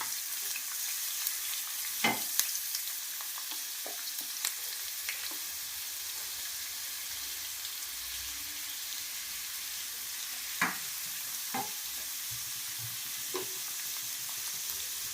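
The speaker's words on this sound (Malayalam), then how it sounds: "ഒരു സബോള അരിഞ്ഞത് ചേർത്ത് കൊടുക്കുന്നു" Chopped onion fries in a pan for a squid roast, giving a steady low sizzle alone with a few sharp clinks and scrapes of stirring scattered throughout.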